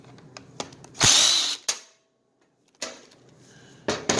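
A power drill backs screws out of a chainsaw cover, with short whirring bursts separated by pauses and small clicks and handling knocks, close up.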